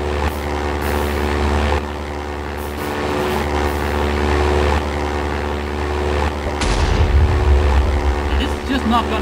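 A propeller plane engine from the Minecraft Flans mod drones continuously with steady harmonic tones that shift in pitch as it manoeuvres, loud and close, with a rumbling surge near the end.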